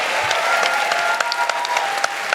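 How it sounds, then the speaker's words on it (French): Brief burst of audience applause for a comedian at a live stand-up show, dense clapping with sharp individual claps poking through, fairly loud and close. "Bravo, on peut l'applaudir, tranquille."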